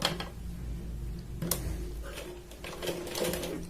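A sewing machine sews along the edge of a Katori blouse, a close steady mechanical hum with a few sharp clicks and taps as the fabric is guided.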